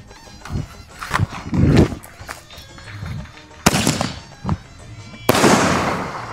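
Sivakasi firecrackers going off in bursts: one sharp crack near the middle followed by a louder, longer crackling blast toward the end, with rumbling and some background noise in between.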